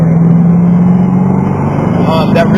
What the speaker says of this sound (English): Now unwind and accelerate.